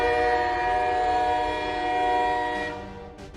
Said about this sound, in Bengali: ঢাকা থেকে ছেড়ে যাওয়া রংপুরগামী বনফুল এক্সপ্রেস ট্রেনটি 2 নম্বর প্ল্যাটফর্মে চলে আসছে